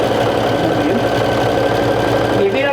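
A sewing machine top stitching a vintage jumper gives a steady, close, mechanical whirring hum that runs continuously with a slight rhythmic rattle.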